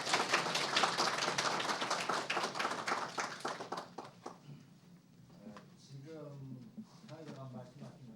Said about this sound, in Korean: 여러분, 조종래 선생님을 박수로 맞이해 주십시오